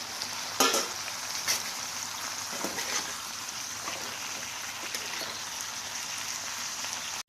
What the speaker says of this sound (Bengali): এবার ভেজে রাখা আলুগুলোকে দিয়ে দেবো।